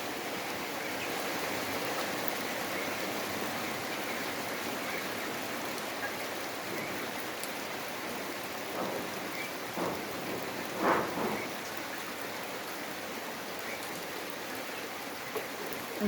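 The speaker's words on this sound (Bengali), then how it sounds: "বৃষ্টি হচ্ছে তাই বসে আছি।" Steady rain pours down at an outdoor project site, a dense, even hiss that fills the whole stretch, with soft low rumbles of thunder rolling in the background and no voices.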